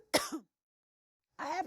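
A single short cough or throat clear breaks a near-silence, followed by the start of a voice.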